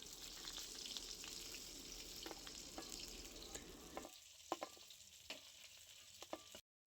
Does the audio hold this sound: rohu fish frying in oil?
yes